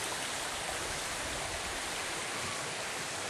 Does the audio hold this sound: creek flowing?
yes